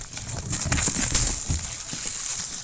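Crinkling and crumpling of cardboard and plastic packaging as a Lenovo 7 Slim Pro X laptop box is opened, a close, steady rustle with a few sharper crackles.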